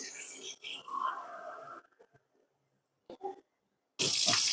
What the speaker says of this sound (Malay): Next, kita akan masukkan air.